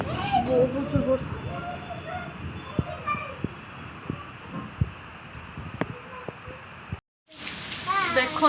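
Heavy monsoon rain pours in a steady, dense hiss throughout, with thumps and a voice talking over it, then cuts off briefly before the downpour resumes.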